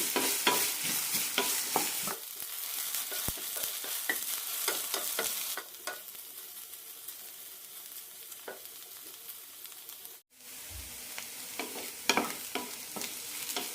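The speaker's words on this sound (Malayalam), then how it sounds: "ഒരു ടേബിൾ സ്പൂൺ എണ്ണയാണ് ഒഴിച്ചിരിക്കുന്നത് നന്നായി വഴറ്റിയെടുക്കാം" Okra pieces sauté in a tablespoon of oil in a pan, sizzling steadily while a spatula stirs with frequent scraping clicks; the sizzle softens after a few seconds, breaks briefly, then resumes close up without talk.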